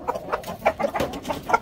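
Chicken clucking in a run of short, irregular calls, fairly close and moderately loud, with no talking over it.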